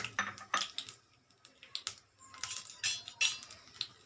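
Peanuts tipped into hot oil in a pan for a peanut mint dish, giving scattered, irregular clattering ticks and small rattles close by, with no voices.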